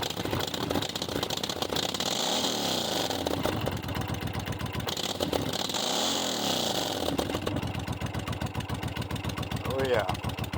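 Motorcycle-style engine running low on reserve fuel, a steady close mechanical drone with rising and falling surges, while people talk over it.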